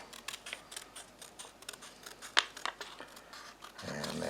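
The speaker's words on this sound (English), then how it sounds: "I'm just turning the paper into the scissors, making sure that my fingers are way out of the way" Scissors snip through paper while cutting out circles for a snowman craft, making a run of quick, crisp close-up cuts with one sharper snip partway through and rustling paper at the end.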